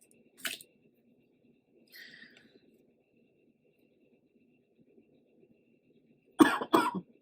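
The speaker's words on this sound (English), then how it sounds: "Sorry, still got this cough." Two separate coughing fits, a short one early and a louder double cough near the end, with faint murmuring background noise in between.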